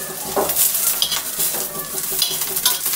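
Onions fry in a pan, giving a steady, continuous sizzle up close, with frequent scraping clinks of a utensil stirring them throughout.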